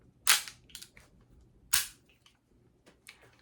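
A Colt M1911A1 green gas blowback airsoft pistol fires two sharp, snappy shots about a second and a half apart, each with a quick clack of the slide cycling, followed by faint mechanical clicks in a quiet room.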